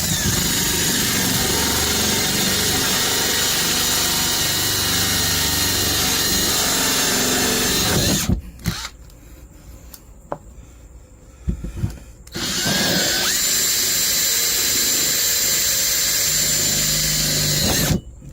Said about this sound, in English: I'm just going to go through until my small drill bit goes through the outside.